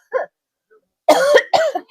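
A person coughs close up: one short cough, then two harsher, louder coughs in quick succession after a pause.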